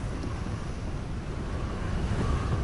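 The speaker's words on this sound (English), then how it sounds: "Pretty windy out here." Wind blows steadily outdoors in Hogwarts Legacy, a constant broadband rush with no speech over it.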